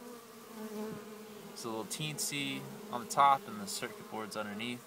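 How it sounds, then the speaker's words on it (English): Bees buzz steadily around a hive while a person talks over them in a conversational voice. "we're getting a lot of bees coming home."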